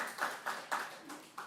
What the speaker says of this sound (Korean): 우리 박수 한번 치시죠.